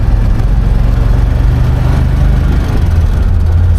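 A 1956 Chevrolet Bel Air convertible with the top down, its engine running with a steady low rumble that stays close and loud throughout, with no clear revs or pauses.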